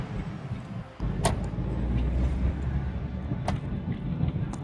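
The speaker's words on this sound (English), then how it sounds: "Traffic noises." Road traffic outside, a steady low rumble of passing cars and engines that swells after a brief quieter start, with a few sharp clicks and thumps scattered through the wash of noise.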